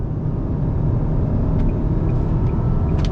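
A 2021 Nissan Sentra SR accelerating on throttle to pass while changing lanes, heard from inside as a steady, loud low road-and-engine rumble with faint higher squeaks, no talk.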